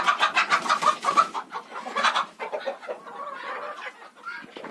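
Quails chirping and clucking inside a coop, a dense run of close, busy bird calls that grows sparser and softer toward the end.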